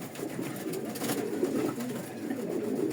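Low, continuous cooing from foreign-breed pigeons kept in breeding pairs in a loft, a near and steady murmur with a few brief brighter sounds over it.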